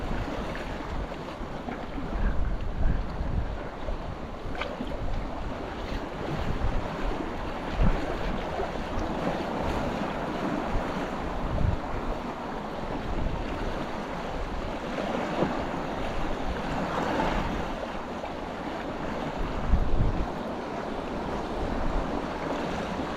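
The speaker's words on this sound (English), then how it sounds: "That wind blowing from right to left." Wind gusting across open water on the coast during pouring rain, a continuous rough roar with buffeting bursts and surf washing underneath, no talk.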